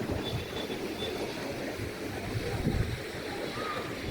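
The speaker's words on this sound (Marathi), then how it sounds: "मी तुम्हाला सध्या दाखवतो की समुद्र कसा आहे इथं." Sea surf rolling onto the shore at Kunkeshwar on the coast, a steady low roar of breaking waves heard faintly from a little distance, with no distinct individual crashes.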